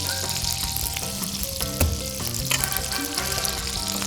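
Lobster fries in butter and oil with a dense, continuous sizzle and crackle, close by, with light clinks of stirring throughout.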